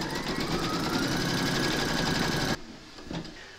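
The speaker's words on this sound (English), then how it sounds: "Pop your hoop into your machine and stitch round number 4 to secure it." An embroidery machine stitching an applique in the hoop gives a fast, even mechanical whirr and needle patter, close and steady, then stops abruptly and leaves a few faint clicks.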